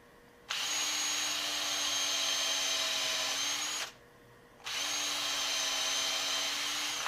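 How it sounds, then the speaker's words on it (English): A power drill whines steadily for about three seconds, stops briefly, then starts up again with the same high, even whirr. "I got a drill with a stop on it set just right"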